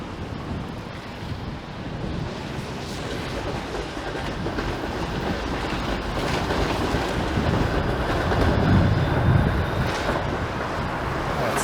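A Bathurst streetcar rolls past on a Toronto street, a steady rumbling roar of wheels on rail with faint clacking that swells slightly as it nears, heard outdoors with wind buffeting the microphone.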